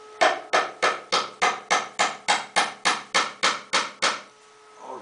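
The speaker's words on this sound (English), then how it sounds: "I'm going to hammer it here" Thirteen evenly spaced hammer strikes ring out sharply on a nail being driven into a board, close and loud, in a steady rhythm before stopping.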